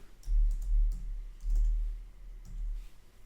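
Typing the word Paris on a computer keyboard: a quick series of soft, close key clicks in small bursts, with a few separate taps, alone without talk.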